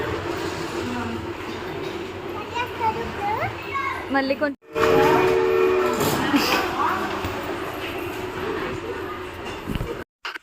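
A toy train delivering food to tables in a restaurant rattles and chugs along its track under steady chatter from adults and children, with a brief gap midway.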